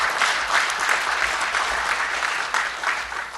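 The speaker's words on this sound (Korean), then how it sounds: "관계자 여러분께 여러분 큰 박수로" Audience at a National Assembly suicide-prevention forum launch gives steady, even applause in a hall, a continuous patter of many hands at moderate volume throughout.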